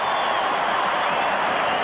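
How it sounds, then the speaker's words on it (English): A large stadium crowd at a 1991 New Zealand versus Australia rugby league test match roars in a steady, dense wash of cheering and shouting that stays loud and unbroken throughout. "Listen to the crowd."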